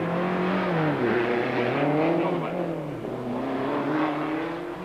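A 1987 rally car in New Zealand racing through the streets of Rotorua on a 2.3 kilometre stage, its engine loud and close, revving and shifting pitch continuously as it charges along, with no talk.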